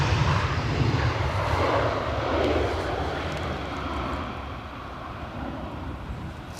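A jet airliner lands at Edinburgh Airport in gusty winds of over 40 mph, its engines a loud, steady rumbling roar mixed with wind noise that slowly eases off with no talking.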